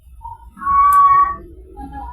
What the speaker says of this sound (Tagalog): ang OA naman ng mga pusa